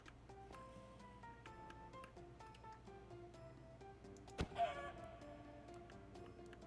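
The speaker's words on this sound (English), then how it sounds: "There's a chicken stuck in the..." A Minecraft chicken clucks in short repeated bursts amid soft tonal game music, with a sudden thunk near the middle, no speech.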